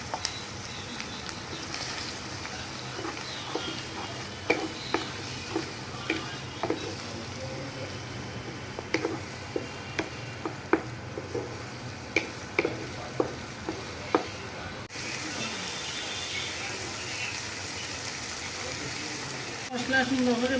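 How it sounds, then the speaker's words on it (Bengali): Spice paste sizzles in oil in a pan for chital fish muitha, a steady frying hiss broken by repeated scraping stirs of a spatula, close and clear, with a sudden louder burst near the end. "মশলা সুন্দর করে ভাজা গেছে"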